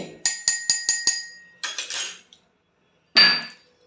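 Coconut garlic chutney pounded by hand: a quick run of five sharp rhythmic knocks, a short pause, a few more, then one louder single strike, close up with no voices.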